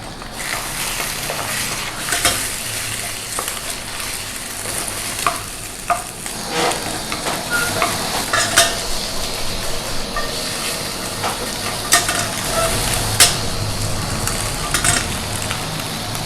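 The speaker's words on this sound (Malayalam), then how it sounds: "എന്നിട്ട് നമുക്കിത് സ്ക്രാമ്പിൾ ചെയ്യാം" Eggs being scrambled with shallots and garlic in a hot pan: steady sizzling with repeated scraping and stirring strokes of a spatula, fairly close and continuous for the whole stretch, no voices.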